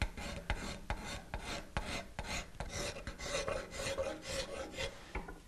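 A hand file rasps steadily over a carved wooden ball and claw foot, smoothing away file marks in repeated strokes of even rhythm, close and fairly loud with no talking.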